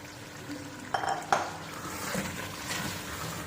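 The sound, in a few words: white lobia beans being added to the pot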